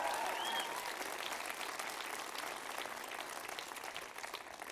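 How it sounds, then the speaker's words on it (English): Audience applause at a Cape Town theatre awards ceremony, a steady wash of many hands clapping, fairly distant and soft, fading slightly toward the end. "A round of applause,"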